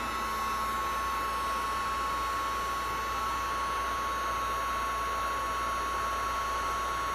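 A heat gun blows a steady, even hiss with a faint whine throughout as it dries paint on a Gelli print made on deli paper.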